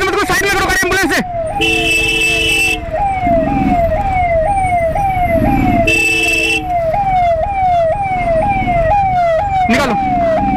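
A loud ambulance siren wails nearby in Indian traffic in the NCR with a rapid rising-and-falling yelp, over engine noise, with short bursts of a horn-like electronic tone.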